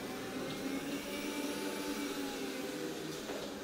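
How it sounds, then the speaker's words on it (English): A new robot vacuum cleaner runs with a steady, even whirring hum and broadband hiss in a home, constant throughout with no talking. "It's the new vacuum cleaner."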